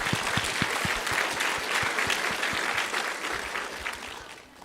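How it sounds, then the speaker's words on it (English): An audience at a youth competition for Little Cherokee Ambassadors claps in a steady round, with a few sharp, close hand claps standing out over the wider crowd, tapering gently near the end. "Let's give them one more round of applause."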